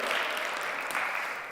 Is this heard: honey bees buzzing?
no